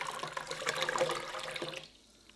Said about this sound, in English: I'm going to add some more hot water in there to try to get the temperature up high enough